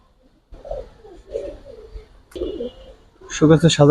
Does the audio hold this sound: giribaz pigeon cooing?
yes